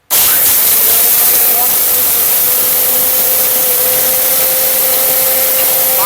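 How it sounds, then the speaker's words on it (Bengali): A Miyako electric blender running at high power gives a loud, steady, close whine and roar that starts abruptly and holds without a break throughout. "এত তাড়াতাড়ি তো ভাই, এটা মহা শক্তিশালী ব্লেন্ডার"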